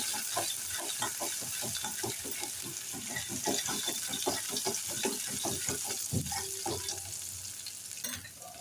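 Hand-pounded ginger garlic paste with green chili and asafoetida sautéing in a pan, a steady sizzle broken by rhythmic scraping and stirring strokes, close and fairly soft, with no talking.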